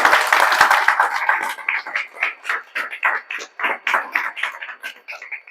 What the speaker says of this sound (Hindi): इसके लिए जोरदार ताली आप लोग बजा दीजिए